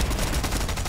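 Gunfire in the Fortnite video game, a dense burst of rapid shots packed into under a second, loud and continuous with no clear gaps and no talk over it.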